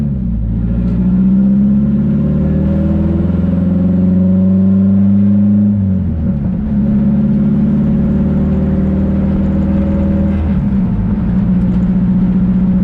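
A Nissan S14 car engine idles loudly and steadily, with a deep even hum. The pitch dips briefly twice.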